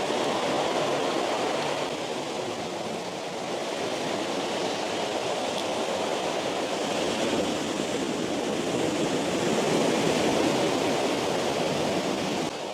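Steady broadband wash of ocean surf on the coast at Robin Hood's Bay at night, continuous and fairly loud rolling waves with no breaks and no voices.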